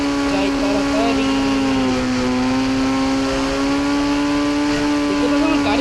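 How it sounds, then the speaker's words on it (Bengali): A car at full speed in the Indian Bike Driving 3D video game, a steady, loud, continuous engine drone with a sustained pitch and a slight dip partway through, heard throughout with no breaks. "দেখতে পাচ্ছ আমার গাড়ি ফুল স্পিড উঠেছে"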